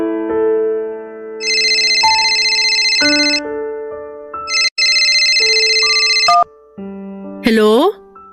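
A phone ringtone chimes loud and close in a repeating melodic pattern with bright tones, stopping and restarting, ending with a rising electronic sweep.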